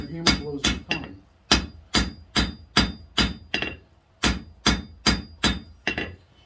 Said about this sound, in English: the more round you get, the lighter your hammer blows become.